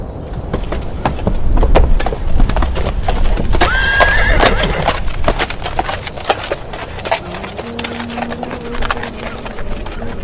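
A roan horse clip-clops steadily along a trail, its hooves close and loud, with a neigh about a third of the way through.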